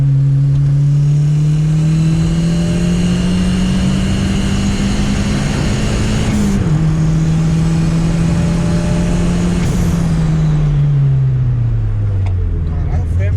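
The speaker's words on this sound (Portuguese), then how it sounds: "E ó a turbina quebrando, ó o barulho," A Chevrolet Chevette engine with a failing turbo, its loud droning tone holding steady, wavering and dropping with a sharp whistle-like shift partway through, while a person speaks over it.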